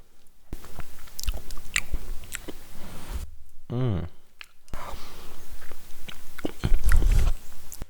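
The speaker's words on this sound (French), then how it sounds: "pour tous ceux qui supportent pas quand quelqu'un piaffe au fait" Someone chews cake noisily close to the mic in wet, crunchy bites, first with a whisper-like quality and then more loudly, with a short tonal sound partway through.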